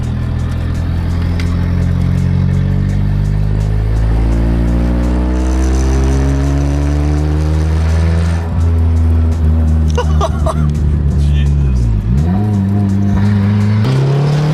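A loud Eagle Talon engine revs and roars up through the gears nearby, pitch climbing and dropping as it accelerates.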